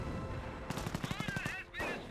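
A German MG42 machine gun in the Company of Heroes game rattles off a rapid burst of about a dozen sharp shots, fairly faint under background game noise and a quiet voice.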